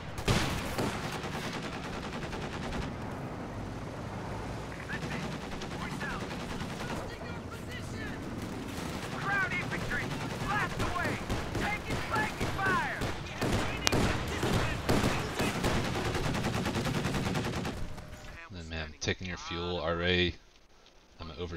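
Half-track machine gun fire in the Company of Heroes 2 strategy game: dense, rapid bursts of automatic gunfire and battle noise stretch on and on, with a commentator talking over it.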